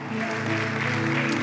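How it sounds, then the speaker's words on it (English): A church congregation claps during worship, a continuous close wash of hands with sustained tonal music or organ notes running underneath. "clap your hands and give God the best praise you've given Him."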